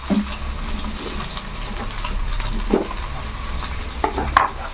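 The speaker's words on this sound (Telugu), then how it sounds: "ఇప్పుడు తాలింపు వేసేసుకుందాం." Garlic goes into hot oil for a tempering, followed by mustard seeds, cumin and dried red chillies. A steady sizzle and frying hiss is heard close up, with occasional stirring clinks and brief louder spurts.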